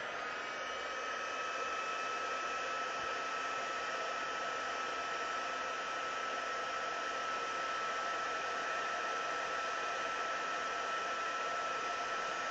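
Heat tool blowing steadily while heating soft pastel on a piece of cardboard, a constant loud whooshing hiss with no change across the whole stretch.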